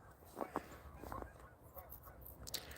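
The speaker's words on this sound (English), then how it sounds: "More geese coming." Canada geese honk in scattered calls, some distant and some nearer, over a quiet outdoor background.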